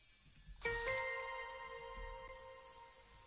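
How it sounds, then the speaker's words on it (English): A bright chime rings out once in a chillstep track, with a sharp metallic strike and a second quick hit, its shimmering tones sustaining and slowly fading over a soft low bed. "chime sound"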